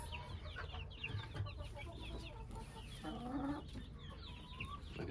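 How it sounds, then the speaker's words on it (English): Backyard coop chickens, young pullets among them, cluck and chirp in soft overlapping bursts nearby, with scattered low murmuring and scratching around them. "Look at the little baby chicks,"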